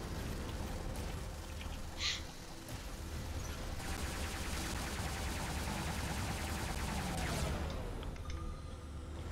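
Dense rapid weapon fire from combat robots in the War Robots video game crackles continuously, a loud rattling barrage with short bursts and impacts layered over steady game noise.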